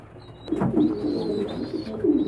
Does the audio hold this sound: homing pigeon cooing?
yes